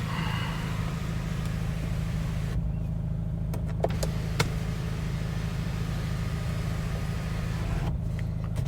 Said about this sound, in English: Sunroof, obviously, as you can see, one touch.